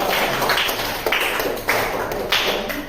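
A classroom group gives applause for group 2, a few scattered claps and taps close by, uneven and brief, with no talk.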